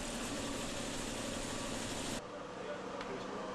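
A natural gas vehicle engine and a diesel vehicle engine run at idle, giving a steady broadband drone that drops abruptly to a quieter hum partway through.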